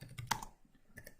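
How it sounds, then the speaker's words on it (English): Typing on a computer keyboard, a quick cluster of close, crisp key clicks followed by a short pause and two more taps, fairly quiet. "So if I start typing"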